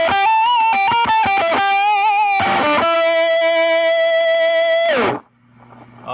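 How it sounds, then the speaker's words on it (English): Electric guitar through an octave pedal, a MOSFET booster and a Rat distortion pedal, loud and close: a quick run of distorted notes, then a long sustained note that bends down and cuts off into near silence. "let's add the booster, the MOSFET booster, into the octave,"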